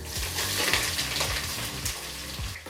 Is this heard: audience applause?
no